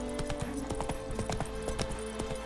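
Hooves of Geralt's horse Roach gallop in The Witcher 3: Wild Hunt, a quick steady clip-clop rhythm, close and clear over a low ambient game hum.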